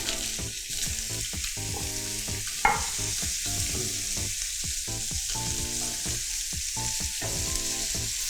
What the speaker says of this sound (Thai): ในส่วนของผักย่างนะครับผมจะใช้กระทะใบเดิมนะครับที่เราทอดปลาหรือว่าย่างปลาเมื่อกี้นะครับ